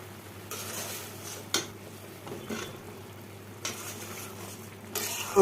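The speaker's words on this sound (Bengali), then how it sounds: "ধুন্দুলগুলো ফ্রাই হয়ে এসেছে" Sponge gourd (dhundal) fries in a pan, a quiet background sizzle punctuated by several sharp spatula scrapes and clinks against the pan at irregular intervals, with no talking.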